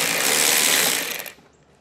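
A ratcheting driver loosens an 8mm screw on a 2019 BMW, a close, steady run of fast clicks for over a second that then tapers off into quiet.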